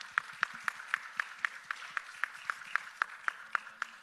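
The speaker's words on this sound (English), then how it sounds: "Let's give a round of applause for Dr. Erica Whitaker" An audience claps in a steady, rhythmic pattern, about four claps per second, sounding somewhat distant and moderately quiet throughout.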